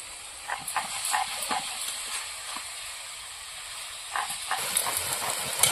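Water poured into a pan of frying Malabar spinach with cumin paste, cooked as a fish-head chorchori, sets off a steady, close steam hiss and sizzle that swells in spurts and grows stronger near the end.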